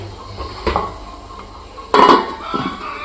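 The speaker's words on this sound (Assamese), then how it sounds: "ইয়াত এখন ঢাকন দিম টাইটকৈ এইখন ঢাকন দি দিছোঁ" A metal lid set down firmly on a pot of fish steaming in leaves on a kitchen stove, landing as one clear clattering clank, with fainter knocks of cookware before and after.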